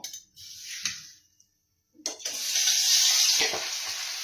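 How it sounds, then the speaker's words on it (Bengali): Marinated fish slid into hot oil in a home kitchen sets off a sudden loud, steady hiss and crackle that follows a brief clatter and carries on without any speech. "আমি কিন্তু মাছটা তেলের মধ্যে দিয়ে দিলাম"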